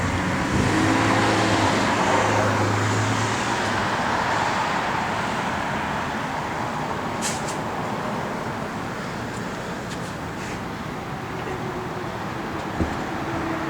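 A 1971 Dodge Demon with a four-speed manual and electronic ignition pulls away, its engine a steady loud rumble that holds level and slowly fades slightly into road noise, with no talk.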